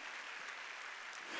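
A church congregation at a Wednesday worship service claps in a brief, faint burst of dense applause heard from a distance.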